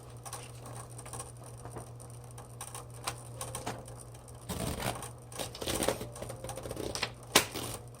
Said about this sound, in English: let's go ahead and put a piece of paper in and do our typing demo.